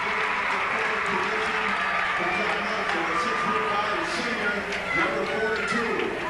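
A basketball crowd in a high school gym at a 1992 boys game cheers and applauds steadily for a player being introduced, a dense even wash of noise with no one talking.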